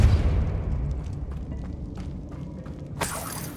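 In the Hogwarts Legacy game, a Depulso spell is cast and ends in a sudden bright, shattering crack after a few seconds of low rumbling and faint clinks.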